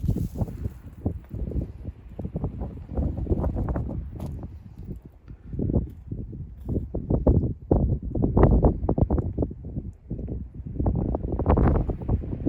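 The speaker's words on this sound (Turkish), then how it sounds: "biraz da hava rüzgarlı" Steady gusty wind buffeting the microphone, a low rumbling roar that swells and eases throughout, close and loud with no voices.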